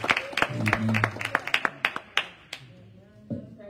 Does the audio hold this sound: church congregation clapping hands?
yes